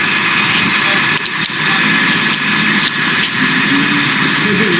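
Transit buses idle at a bus transit center, a steady broadband engine rumble and hiss with a couple of brief dips, continuous and fairly loud throughout.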